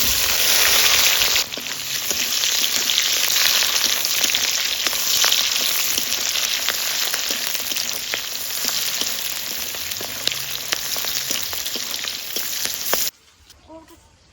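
Chopped onions hitting hot oil with bay leaves and cumin while cooking duck, a loud, dense sizzle that runs steadily for several seconds before cutting off abruptly near the end.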